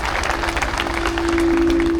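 Audience at a speech event in Dhule, Maharashtra breaks into sustained applause, a dense wash of clapping held at steady loudness for the whole stretch, with a faint tonal hum running underneath near the end.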